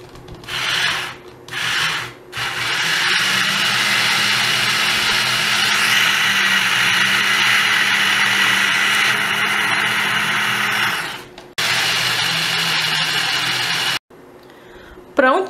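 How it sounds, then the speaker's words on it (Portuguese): A small electric hand mixer whirs steadily while blending a toy strawberry milkshake for dolls, a continuous close buzzing drone lasting about nine seconds after a few short bursts, then cutting off; speech occurs around it. "Agora eu vou colocar aqui e vou misturar a nossa batedeira."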